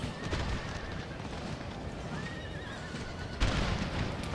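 Horses whinny repeatedly amid a busy battle in the video game Empire: Total War, shrill neighs rising over continuous rumble and distant gunfire, with a sharp burst near the end.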